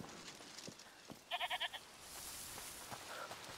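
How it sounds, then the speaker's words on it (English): Goat bleating in the video game A Plague Tale: Requiem, a quick run of four short wavering bleats in the middle, clear against a quiet ambient background with faint rustling. "Listen, is that the goat you talked about?"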